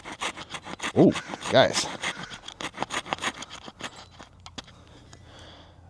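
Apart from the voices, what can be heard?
multitool saw blade cutting notch in hardened wood dowel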